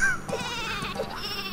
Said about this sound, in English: I'm still waiting to see that super sheep, to be honest.